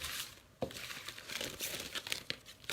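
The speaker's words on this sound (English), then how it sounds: "This is my shuffling. I'm not really good at shuffling." Papery crinkling and shuffling of bingo cards, with sharp flicks and rustles coming in bursts, close by.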